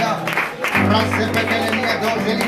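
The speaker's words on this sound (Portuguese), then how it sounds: "Uma salva de palmas ao nosso Senhor Jesus Cristo." A church congregation at a Sunday service applauding, a short stretch of mixed clapping with a low steady hum and voices underneath.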